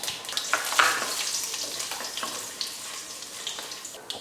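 Seeds crackle and pop in hot oil, a sharp irregular spluttering with small bursts, close by and fairly quiet.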